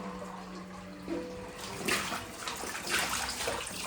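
A child splashes in a bath, water sloshing in a tub, with bursts of splashing growing louder partway through over a steady running-water hiss.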